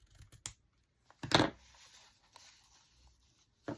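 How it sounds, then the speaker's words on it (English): Scissors trimming the edge of a paper journal pocket, a few short crisp snips with one louder cut near the middle, close and quiet with pauses between. "I'm going to trim it off a little bit more"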